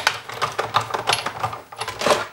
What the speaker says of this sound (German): wenn ihr dann gekurbelt habt